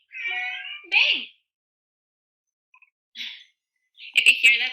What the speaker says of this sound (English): If you hear that, that's my cat.